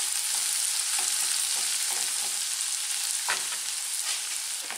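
Onion and garlic fry in oil in a pan. A steady, dense sizzle runs throughout, with occasional soft scraping as the mixture is stirred. No voices are heard.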